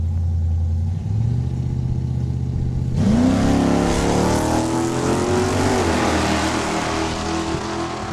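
A 2014 Mustang and a '78 Aspen Super Coupe roar off the line at a drag strip: engines idle loudly, then surge into a harsh, rising full-throttle launch that holds strong and close before slowly fading.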